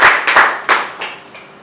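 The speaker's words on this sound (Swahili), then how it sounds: "ndio Bwana Yesu makofi" An audience at a Christian gathering claps hands loudly and close by, in a quick burst of about five rhythmic claps that trail off.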